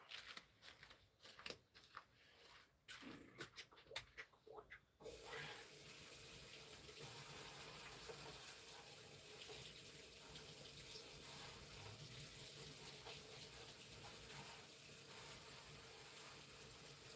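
Obsidian pieces get rinsed under a sink tap: a few seconds of clinking and handling noises, then a steady, continuous rush of running water carries on at an even level.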